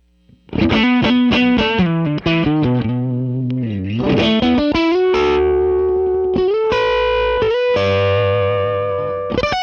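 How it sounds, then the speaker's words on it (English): A single coil electric guitar runs through a Venus 3 amp with the preamp gain raised and the master lowered. It plays a loud, sustained overdriven riff of chords and held notes, alone and with no talking. "we're going to decrease the power amp overdrive by bringing the master down and once again increase the preamp gain without the boost"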